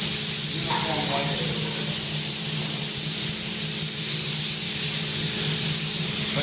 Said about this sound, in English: I'm just going to give it a fine spray.